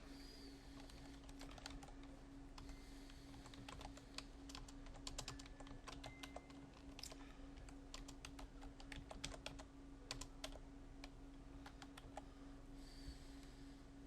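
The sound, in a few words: typing on a computer keyboard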